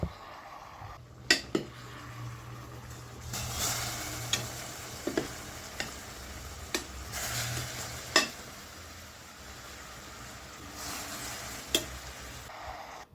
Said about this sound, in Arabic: وسامعين الصوت بقى الحلو ده اللي نازل كده اللحمه في